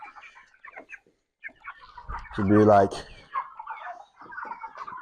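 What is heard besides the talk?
broiler chickens clucking while being fed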